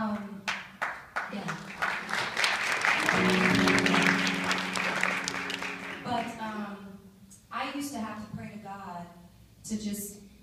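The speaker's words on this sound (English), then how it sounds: "Please give him a round of applause." An audience at an awards ceremony applauds in a loud, dense burst lasting a few seconds. Speech comes before the clapping and again after it fades.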